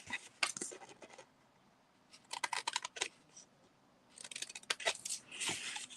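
Scissors snip close by in short clusters of sharp, crisp cuts with quiet gaps between them, soft overall, during crafting work that uses wet glue.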